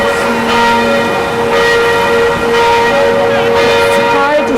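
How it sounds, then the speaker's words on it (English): Church bells ringing near the hour somewhere in Germany, steady sustained tolling with long ringing overtones that fill the whole stretch, loud and continuous with no talk. "It's near hour, as you can tell, by the bells"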